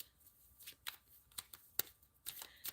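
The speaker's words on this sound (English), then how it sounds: "Let me shuffle one more time." Tarot cards being shuffled during a live reading, with quick riffling bursts and soft card slaps close by, repeated in short uneven rounds.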